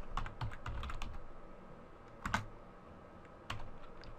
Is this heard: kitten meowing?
no